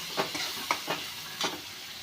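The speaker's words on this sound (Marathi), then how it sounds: "चेरी टमॅटो मस्तपैकी असं एक परतून घ्यायचं हे पण कांदा आणि टमॅटोचा एक जीव झाला पाहिजे" Cherry tomatoes and onion sauté in a pan for a soybean curry, a steady sizzle broken by a few soft scrapes of stirring, close and moderately quiet with no talk.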